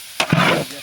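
Biryani rice frying in pure ghee, a brief burst of sizzling and stirring that swells loudly for about half a second, then settles and fades, with no voices.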